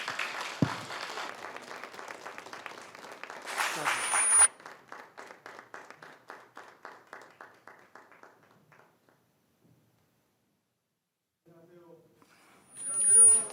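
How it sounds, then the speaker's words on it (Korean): Church congregation at a Thanksgiving Sunday service applauding in rhythmic unison, a burst of clapping that fades into steady, slowing claps before stopping, with a voice briefly speaking afterward. "우리 기쁘게 박수로 맞도록 하겠습니다."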